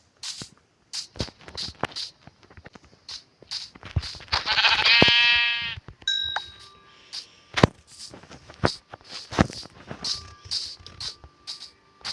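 Sheep bleat in a Minecraft-style survival game, one long wavering bleat standing out mid-clip among repeated sharp game footstep and action clicks, with short tonal game sounds after it.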